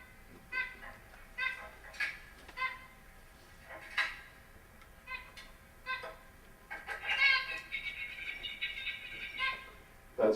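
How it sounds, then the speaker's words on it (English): Playback of a zebra finch song recording: a series of short, bright chirps and calls in bursts, with a denser, buzzier stretch near the middle, fairly faint overall. "That's a bird recording."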